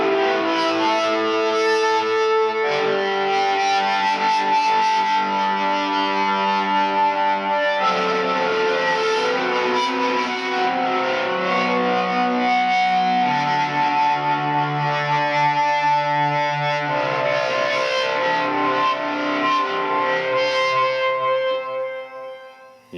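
A rock organ played through a Boss Katana 50 MkII amp with heavy distortion, loud sustained chords shifting every few seconds with a gritty, effects-laden tone, continuous until it fades out at the end.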